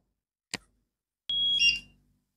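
Cookeo multicooker in a kitchen: a short click followed by a single sustained electronic beep about a second long, close and clear against silence.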